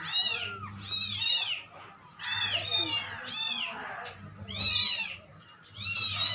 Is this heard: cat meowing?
yes